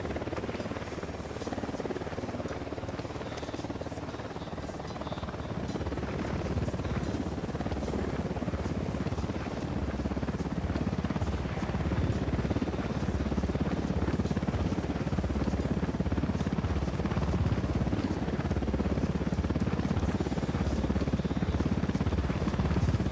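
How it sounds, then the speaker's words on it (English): A military helicopter in the Ghost Recon video game approaches, its loud, steady rotor roar and engine drone filling the scene and swelling slightly as it nears, with no pause throughout. "Chopper incoming."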